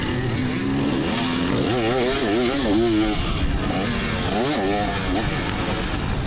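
A 1986 Honda CR250 two-stroke dirt bike and other motocross bikes race around a dirt track, engines rising and falling through repeated revs and gear changes, loud and continuous, with the rider's voice running over them.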